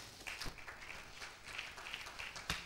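A congregation applauds inside a church during a French service, a faint, steady patter of many hands clapping with a few sharper claps standing out, heard alone without talk.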